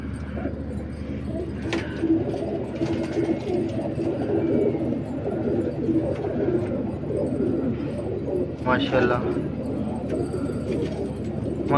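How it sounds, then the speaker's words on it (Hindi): Desi pigeons coo in a loft, repeated soft, low throaty calls rising over a steady background, with a few sharper chirps and faint jangling noises now and then. "ये तमाम नए कबूतर हैं"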